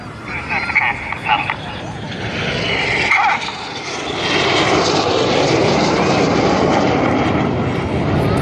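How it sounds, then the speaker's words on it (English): Red Arrows jets roar loudly overhead at the 2014 Southport Airshow, a continuous broad engine rush that swells as the formation passes, with a commentator talking over it. "Each of the pilots in the Revolution there performing an aileron roll manoeuvre"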